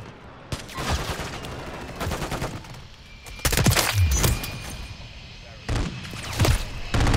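Video game gunfire crackles in loud, dense bursts of rapid shots, broken by short pauses, with a player talking in between.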